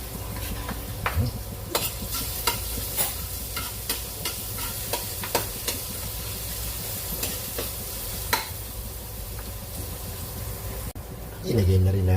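Garlic sizzles in hot cooking oil in a pan, a continuous crackling fry with stirring scrapes and utensil clinks, and a voice speaks briefly near the end.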